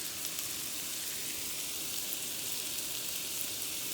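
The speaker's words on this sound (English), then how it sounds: "And then I'll get these veggies sauteed" Vegetables for a southwestern cheese omelette sizzle steadily in a hot pan, a close, even frying hiss with no break.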